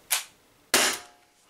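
Two sharp air pistol shots from an Umarex HDR68 firing Z Ram V2 slugs, each a crisp crack with a short decay, about 0.6 seconds apart, heard alone and fairly faint.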